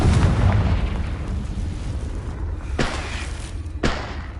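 The Confringo fire spell bursts in Hogwarts Legacy with a loud, close, booming blast that dies into a rumbling tail. Two sharper, shorter cracks follow near the end.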